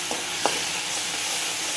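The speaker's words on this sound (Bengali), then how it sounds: "যখন মশলাটা ভাজা হয়ে যাবে ভালো করে," Spices frying and being stirred in a pan for a spicy cauliflower curry: a steady close sizzle with a couple of short scraping stir strokes, no voices.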